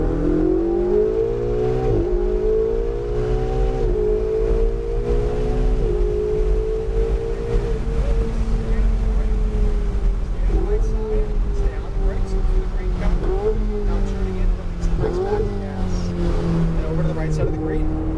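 A car accelerating hard around a cone-marked driving course: a loud, close engine drone climbs in pitch, steadies and shifts as it pulls through gears, with wind rushing over it the whole way.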